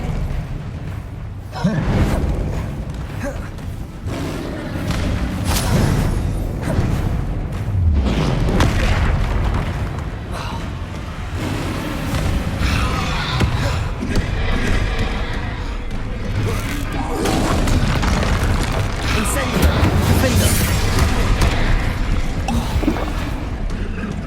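Spell blasts and explosions in Hogwarts Legacy combat, heavy booming impacts rolling one after another over a dense continuous rumble, loud and close, with spoken spell incantations mixed in.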